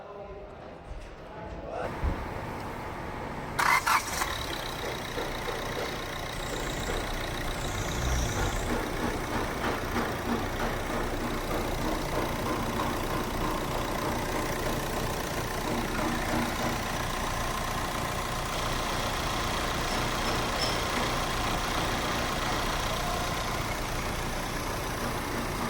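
A Hyundai Verna fluidic diesel engine idles steadily for a long stretch after a brief start, its continuous rumble close and even, with a voice talking over it now and then.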